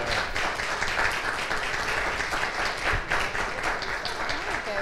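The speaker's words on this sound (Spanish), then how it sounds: "Yo necesito que le den un fuerte aplauso a ellos." Audience at a tenth-anniversary parents' academy event gives steady, fairly distant applause, a continuous rustling clap wash with some voices underneath.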